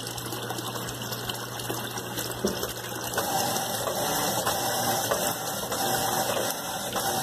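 Electrolux LTC10 top-load washing machine agitating a load of sheets, a steady churning slosh of water with mechanical ratcheting clicks, close and continuous without talk.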